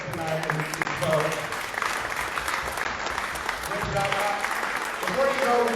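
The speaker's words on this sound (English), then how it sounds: "Can we give a round of applause to all the candidates tonight and vote?" An audience at a city council candidates forum breaks into sustained applause, a dense crowd of clapping hands, with a few voices faintly mixed in.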